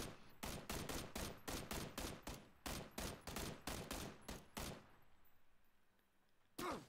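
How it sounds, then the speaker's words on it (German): Rapid, evenly spaced gunshots in PlayerUnknown's Battlegrounds fire in a long sustained string at a steady rhythm. They stop, leave a quiet pause, and then one more shot rings out. "Du wirst beschossen."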